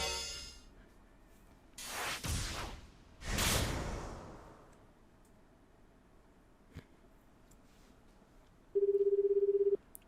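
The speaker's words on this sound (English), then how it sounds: "Osawa picked up his cell phone and dialed Tanaka's number. Phone rang several times." Phone sounds from the video game 428: Shibuya Scramble: two soft whooshes, a faint click, then a single steady ringing tone near the end, with no talk.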